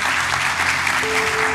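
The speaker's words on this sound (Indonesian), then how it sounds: "Berikan tepuk tangan buat Tuhan" A church congregation claps together in a steady, dense wash of applause, with a soft sustained tone from instruments lingering underneath.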